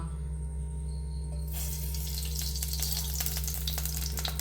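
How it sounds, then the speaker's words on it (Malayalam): Coconut oil poured into a hot pan in a Kerala kitchen for mango moru curry: after a steady hum, a loud, bright crackling sizzle starts suddenly and continues, with sputtering pops throughout. "ഞാൻ വെളിച്ചെണ്ണ ഒഴിച്ചു കൊടുക്കാൻ പോവുകയാണ്"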